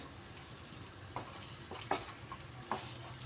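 Cauliflower and potato pieces frying with spices in a pan, a soft steady sizzle with a few sharp scrapes and clinks of a spatula stirring at intervals, close and fairly quiet.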